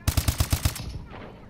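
Rapid burst of about six automatic gunshots from pre-firing in a video game scrim, evenly spaced, loud and close, then a short fading tail.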